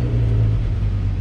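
A VW Golf R32 with its VR6 engine fires up and settles into a steady, loud, low idle rumble, heard up close and with no talking over it.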